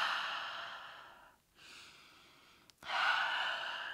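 Slow, steady breaths during a yoga exercise on a mat: a long airy exhale, a brief pause, then another deep, breathy inhale and exhale, close and soft with no talking.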